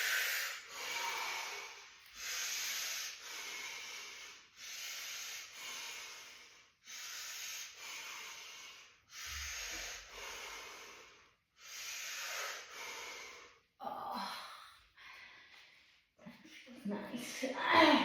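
Long, slow breaths during a yoga stretch: about eight even, hissing inhale–exhale swells in a steady rhythm, close and fairly soft, with a few quieter rustles near the end.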